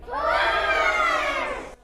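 A crowd yells "push" together at a mock Cabbage Patch doll birth event, a single loud, sustained group shout of many voices that rises quickly and fades at the end.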